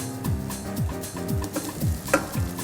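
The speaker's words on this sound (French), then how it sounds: "on fait fondre un peu de beurre dans une poêle" Butter melts and sizzles in a frying pan while vegetables are sautéed, with a steady crackling fry broken by repeated scraping strokes in an even rhythm, close and fairly loud.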